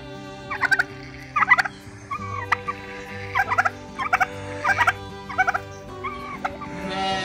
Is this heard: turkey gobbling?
yes